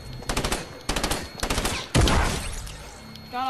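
Rifle fire in a video game shooter, several quick, sharp volleys of close shots followed by a heavier single blast that rings out, loud and punchy with little else around it.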